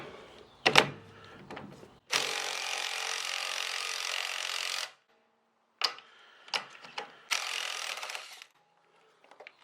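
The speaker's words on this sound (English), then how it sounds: "We'll try doing it with an impact first" An impact wrench works on the upper strut mount cap of a first-generation Audi TT, with one long rattling burst of about three seconds followed by several short stuttering bursts, loud and close, separated by silence.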